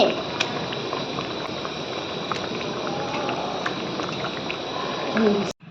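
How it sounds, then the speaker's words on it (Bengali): Fish curry broth with fried eggplant bubbling steadily in a pot, a dense, even simmering hiss that carries on throughout, with a brief clatter near the end. "ঝোলটা ফুটে গেছে"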